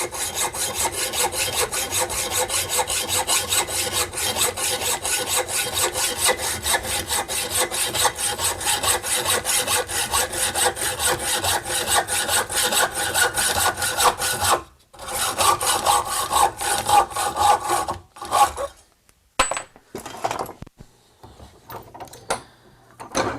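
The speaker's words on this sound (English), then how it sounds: "I think I'll change hacksaws" Steady, rapid back-and-forth rasp of a hacksaw cutting metal rods for a ski shelf, continuous and loud for a long stretch, then broken into shorter strokes with brief pauses toward the end.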